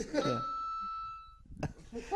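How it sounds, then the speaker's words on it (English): School class bell sound effect, a single bright ringing tone that sustains and decays over about a second, with people talking just before and after. "It sounded it was like the the bell for spelling class."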